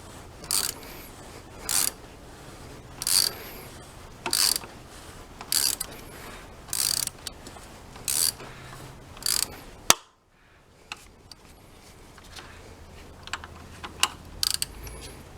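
A ratchet tightening the oil filter on a Mercedes E220 CDI, sharp close bursts of rapid clicking in a regular rhythm, about eight strokes, then a sudden stop followed by quiet handling noise.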